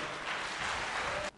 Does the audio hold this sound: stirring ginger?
no